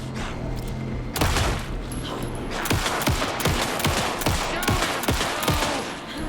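Rapid gunfire from the Alan Wake 2 final battle: a burst of sharp, loud shots at about one-second intervals, with a steady game background underneath and no talk.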